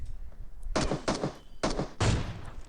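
Gunfire from the mobile battle-royale game PUBG Mobile sounds in four sharp bursts, two close pairs of quick rattling shots with brief gaps between them, loud and close.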